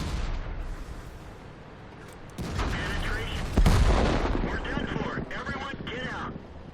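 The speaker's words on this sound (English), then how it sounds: "So I was being hit by two different tanks." In World of Tanks, a tank takes shell hits: a heavy low boom strikes mid-clip amid ongoing engine rumble and crackling impacts, with speech over the top.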